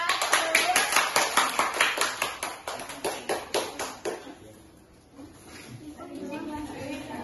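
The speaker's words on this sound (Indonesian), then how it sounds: "tepuk tangan kepada anak kita" A classroom claps in unison for a student, a rhythmic run of sharp, evenly spaced claps that slows and fades, followed by quieter murmuring voices.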